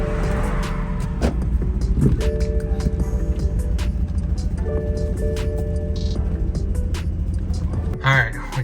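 A BMW F30 328i with an N20 engine, the car with the major problem, idles and creeps forward as it is driven up, a steady low engine hum with faint clicks and a brief mechanical rattle near the end, close by.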